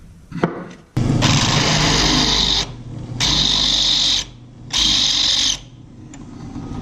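A drill running at its slowest speed whines in three long bursts separated by brief pauses, loud and close, with a harsh grinding rattle, while pressing bearings in during a 12-valve automatic-to-manual transmission swap.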